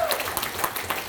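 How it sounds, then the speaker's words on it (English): Dense applause from a retirement event audience, honoring the committee members, as a steady wash of many hands clapping at close range. "Let's give them a big, big round of applause"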